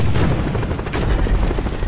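Helicopter in the video game Marlow Briggs, a loud continuous low rotor rumble mixed with dense crackling bursts like gunfire and explosions throughout.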